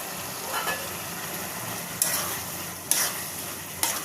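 Tomatoes are added to a pan of frying eggplant chutney with water and turmeric; a soft, steady sizzle runs throughout, broken by a few sharp stirring scrapes and clacks.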